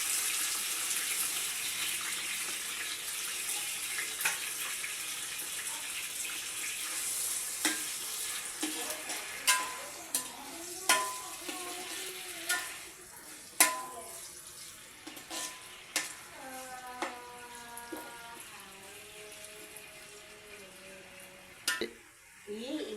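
Onions, tomatoes, green chillies, carrots and potatoes going into hot oil for vegetable biryani, a steady sizzle with clattering spoon knocks and a watery running sound, louder knocks toward the end.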